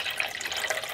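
Water pours steadily into a cook pot, about one and a half cups, with a continuous close splashing trickle and no talking.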